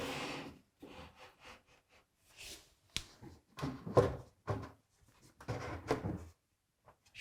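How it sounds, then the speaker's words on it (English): A handmade wooden drawer of a serpentine chest of drawers slid into its case during glue-up, a series of rubbing, scraping wooden knocks and slides in uneven bursts, close and quiet with no talking. "The drawer all the way in."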